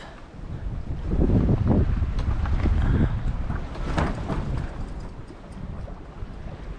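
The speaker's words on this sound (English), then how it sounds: "And we have both sails up." Wind and water rush past a cruising sailboat under both sails, a steady broadband roar with gusty swells and occasional splashes, close to the microphone, with no talk.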